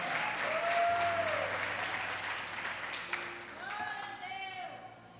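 Steady applause from a large church congregation indoors, a continuous wash of clapping with faint tones and voices underneath.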